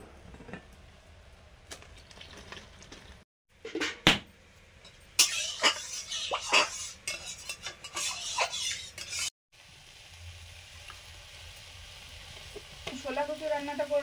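Black cumin seeds sizzle in hot mustard oil in a home kitchen, soft crackling bursts with stirring and a few clinks of a pan, mostly quiet and close, with brief gaps between.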